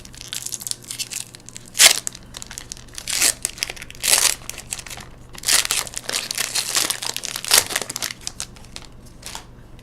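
Battle for Zendikar booster pack wrappers are torn open and crumpled up close, in repeated bursts of crinkling and ripping foil with short quiet gaps between them.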